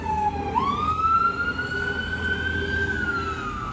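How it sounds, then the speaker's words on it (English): An ambulance siren sweeps past an apartment complex, a loud rising and falling wail with steady road noise underneath, heard alone with no talking. "ambulance just went by my apartment complex"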